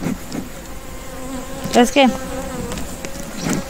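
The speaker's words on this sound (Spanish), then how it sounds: "Y las colmenas no siempre son bravas, las abejas." A steady, close buzz of Africanized honeybees swarms around a hive on a farm, continuous throughout, with brief short spoken words cutting in near the middle and toward the end.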